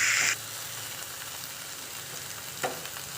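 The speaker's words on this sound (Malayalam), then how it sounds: "ഇപ്പോൾ നമ്മളെ പപ്പായ അതുപോലെ നല്ല ഫ്രൈ ആയി വന്നിട്ടുണ്ട്" Papaya pieces fry in hot oil with a steady, close sizzle that runs throughout, opening with a brighter hissing burst and one short scrape or stir near the end.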